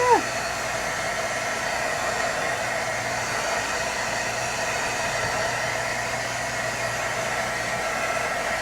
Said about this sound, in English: Y'all know I'm not one to be bothered with the heat tool.